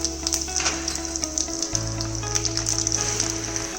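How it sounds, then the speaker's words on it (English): Mustard seeds, cumin seeds and curry leaves sizzle steadily in hot oil, a dense crackling fry with scattered pops and a low hum in the background, close and continuous. "Take oil, add mustard seeds, cumin seeds, curry leaves,"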